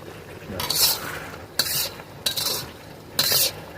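Chicken being stirred and sautéed in a pan with turmeric and chilli powder, four scraping, sizzling strokes in uneven rhythm, close and moderately loud, with no talk.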